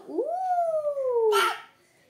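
A voice imitates a long jackal howl that rises, then slides slowly downward before ending in a short breathy burst.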